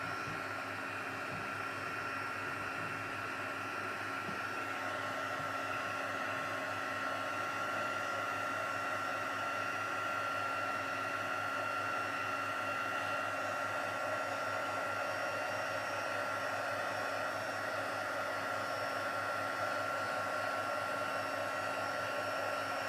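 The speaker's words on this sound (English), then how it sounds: "let me bring in the heat tool and we'll just quickly heat that up to make sure it's dry completely" Heat tool blowing hot air over a craft project to finish drying it, a steady continuous whirring roar that holds evenly throughout at close range.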